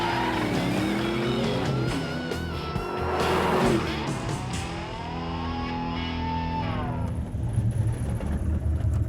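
Drag racing car on a nitrous-boosted quarter-mile run, engine roaring loudly and rising through gear changes with strong acceleration, then fading as it pulls away down the track, no talking.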